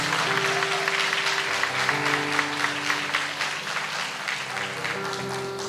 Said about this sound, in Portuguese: Dê um forte aplauso ao Senhor pela vida deles.